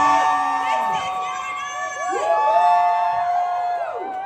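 An audience at a movie premiere night for Gantung Musketeer Code screams and shouts, with high, wavering cheers and whoops rising and falling across a loud crowd.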